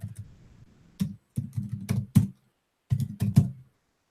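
Irregular bursts of clicky keystrokes on a computer keyboard, tapped in short clusters with pauses between, close and fairly quiet.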